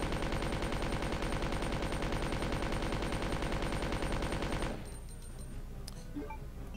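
Magnum gunfire in the video game Resident Evil 2, heard as a dense, rapid run of loud shots lasting nearly five seconds before it cuts off into quieter game ambience.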